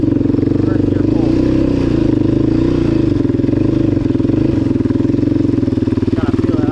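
A 2006 Yamaha Raptor 700 ATV engine pulls hard in first gear, a loud, close, steady throbbing drone with slight rises in pitch; a voice can be heard over it.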